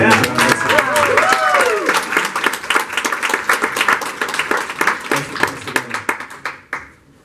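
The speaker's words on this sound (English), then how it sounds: "can we do a quick round of applause for Mike Benedetto?" An audience at a community homelessness event in Granada Hills gives a round of applause, dense clapping that thins into separate claps and fades out near the end.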